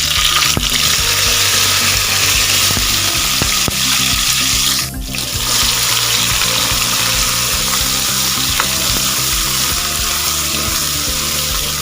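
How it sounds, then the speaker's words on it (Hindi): Tomatoes added to cumin frying in a pan for masala chole give a steady, close, loud sizzle with occasional stirring clatter and a brief dip midway; no one talks. "अब इसमें हम टमाटर शामिल करेंगे।"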